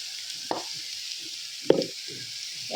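Eggplant (brinjal) slices frying in a pan give a steady, moderate sizzle, with a couple of sharp clinks or stirring knocks and softer scraping noises between them.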